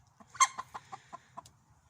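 Several chickens give a quick run of short clucks, about seven evenly spaced bursts with one louder squawk, close by in a quiet backyard coop during a nighttime check.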